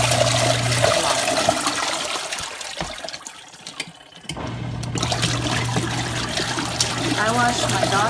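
Water splashing and sloshing inside a Zeny portable compact washing machine running a rinse cycle without soap, with a steady low mechanical hum underneath and a brief quieter lull partway through.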